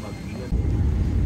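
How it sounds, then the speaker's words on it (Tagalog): Inside the cabin of an airliner accelerating for takeoff at Kuwait Airport, a steady broadband engine roar swells suddenly louder partway through, a close, enveloping rumble. "Ito na yung part na kami ay pa-take off na ng Kuwait Airport. Medyo maingay na siya."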